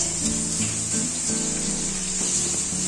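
Potatoes fry in a pan in a home kitchen, giving a steady bright sizzle and hiss that runs continuously at close range with no pauses.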